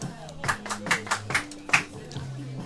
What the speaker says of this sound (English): Clapping going all around the ballpark, as Dylan mentioned.